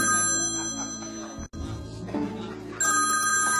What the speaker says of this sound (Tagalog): Ayan na naman, may tumatawag na naman